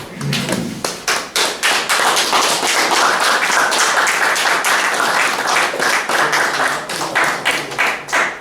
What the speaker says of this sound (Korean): 크게 박수로 이렇게 환영에 맞이했으면 좋겠습니다